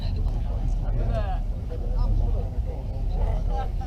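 A four-cylinder motorbike engine idles at a bike show during a farmyard party, giving a steady low rumble close by while people talk over it throughout.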